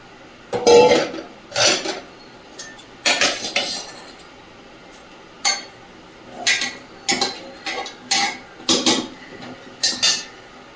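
Metal pot clatter and clinks as potatoes go into a mutton biryani pot, a dozen or so separate bangs and scrapes spread unevenly, close and fairly loud with no talk.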